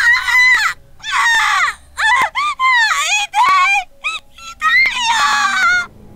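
A female character, Mitsuko from the horror game Corpse Party, lets out a series of high, strained screams and anguished cries in short bursts with brief gaps between them, loud and close.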